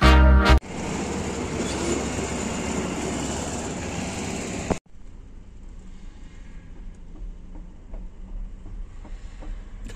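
A loud rumbling rail vehicle rolls past close by, its roar cutting off abruptly, leaving quieter street background with faint clicks.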